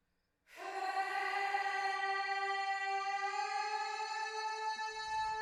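A single high-pitched scream vocal in a song production, treated with a wide, washy cloud reverb, starts sharply and holds one steady sustained pitch for about five seconds, smooth and bright.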